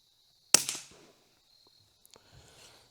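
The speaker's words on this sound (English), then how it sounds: "we are shooting standard velocity out of a suppressed rifle in 22 LR" A single sharp report from a suppressed .22 LR rifle firing standard velocity rounds, a crisp close crack with a short decaying tail, followed by quieter faint handling clicks and rustle.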